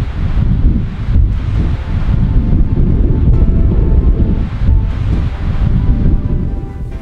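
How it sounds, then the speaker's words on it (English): Strong gusting wind buffets the microphone at Bryce Canyon on a cool, blustery day, a loud continuous roar that swells and dips with no talking. "It says it's 61 Fahrenheit, but it's windy."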